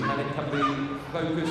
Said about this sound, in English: That's a dog, of course